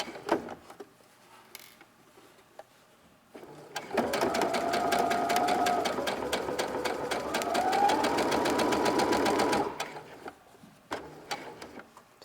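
A sewing machine runs steadily for about six seconds, stitching around a small fabric tote bag at the strap area, with faint handling clicks before and after the burst.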